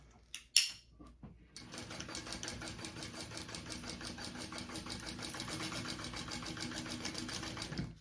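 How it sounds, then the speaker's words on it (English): After a couple of faint clicks, a sewing machine starts and runs steadily, stitching the seam of a crossbody bag with a fast, even mechanical whir for several seconds. "we are going to sew that together at our seam allowance"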